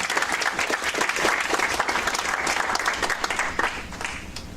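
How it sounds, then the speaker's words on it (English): An audience at a Q&A session breaks into a full round of applause, dense clapping that swells and stays steady, then begins to thin toward the end. "That's worth an applause"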